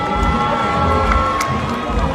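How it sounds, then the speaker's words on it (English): Steady crowd noise and cheering rolls through a stadium during the closing stages of a youth athletics championship race, a dense continuous roar with some indistinct voices mixed in. "Oh, the crowd is pumped for this."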